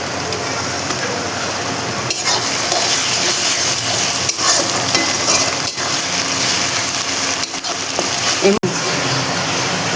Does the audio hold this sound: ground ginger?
yes